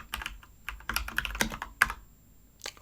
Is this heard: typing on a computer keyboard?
yes